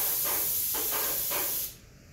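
Airless sprayer applying varnish to a door, a loud continuous close hiss pulsing slightly with each pass of the gun before cutting off abruptly.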